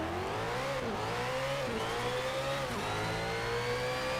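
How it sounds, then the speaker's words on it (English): An Audi R8 V8 engine revs hard in a Need for Speed racing game, its pitch climbing and dipping through repeated surges of acceleration, loud and continuous. "this now has the V8 of the Audi R8, which means it sounds and performs like this"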